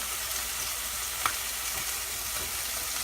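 Scallops pan-searing in hot oil make a steady, even hiss of frying throughout, with one brief faint tick partway through and no voices.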